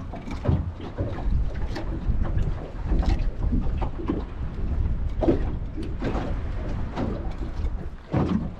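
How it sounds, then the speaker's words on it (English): Wind gusts buffet a small fishing boat out at sea, a continuous blustery roar with rough low rumbling and repeated sharper bursts hitting the microphone, no speech heard. "the wind never stopped blowing"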